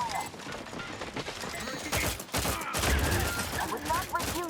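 Gunfire from The Outer Worlds 2 in a dense, continuous burst of shots and impacts throughout, with a brief lull near the middle. A game character's voice speaks over the noise at times.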